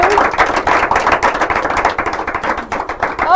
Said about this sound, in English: So yeah, help me clap now.